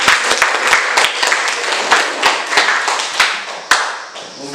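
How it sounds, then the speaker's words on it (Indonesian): A classroom of students claps together, a burst of quick, irregular hand claps that stays close and loud, then thins out and fades toward the end. "Tepuk tangan dulu untuk semua."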